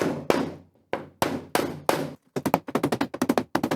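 A carpenter's claw hammer knocks nails back through salvaged wood: several loud, sharp strikes spaced apart, then a fast run of quicker taps, close and alone.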